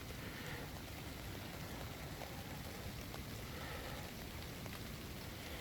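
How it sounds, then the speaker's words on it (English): Steady rain falls at night onto a canal, a dense, even hiss of drops on water and nearby surfaces, continuous and fairly close with no voices. "it hasn't stopped raining for probably the last half an hour"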